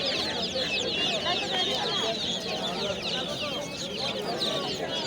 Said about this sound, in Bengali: ছোট ছোট মুরগির বাচ্চা নানান প্রজাতের